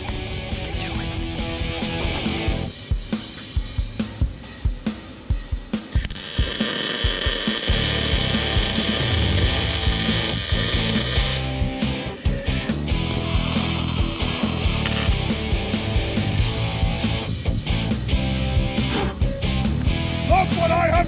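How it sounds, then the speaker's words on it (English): Welding a tab onto the front suspension of a classic Mustang during an SN95 suspension conversion, a long continuous crackling buzz with short stop-start bursts early on, loud and close, no talking. "now I'm going to go ahead and weld her up into place so that she can fit nice and neat right in there"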